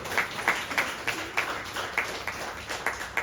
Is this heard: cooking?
no